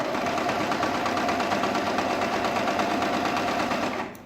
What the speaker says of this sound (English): Drop your needle down and move this to your stitch regulator to 1 and start sewing